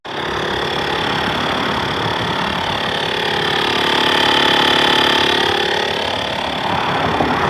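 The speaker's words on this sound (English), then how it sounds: "The compressor's done." A portable air compressor inflates a car's spare tire by the roadside, a loud, steady motorized drone running without a break, close to the listener.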